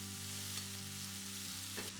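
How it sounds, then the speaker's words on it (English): Tomatoes and vegetables are mixed round in a frying pan, giving a continuous soft sizzle with faint scraping as they are stirred, steady and close, with no talking. "we can add our tomatoes into the pan, and this is going to soften them down"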